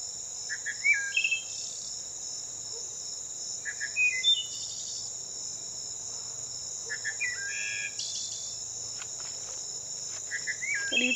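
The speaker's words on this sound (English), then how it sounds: "There's the wood thrush. Would you like to hear its song?" A wood thrush sings in a Belize rainforest, giving short fluting phrases every few seconds over a constant, dense background of insect buzzing, with no voices.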